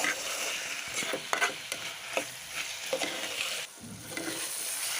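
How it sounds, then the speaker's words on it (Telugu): Green chili paste frying in a pan, a steady hiss of sizzling broken by repeated scraping stirs and clicks of a spoon against the pan, close and continuous. "పేస్ట్ వేసిన తర్వాత ఇది పచ్చివాసన పోయేంత వరకు ఫ్రై చేయాలి"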